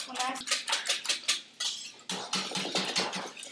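A whisk beating French toast egg mixture in a bowl, quick rhythmic clinking strokes in steady bursts, close and clear, with a short pause partway through.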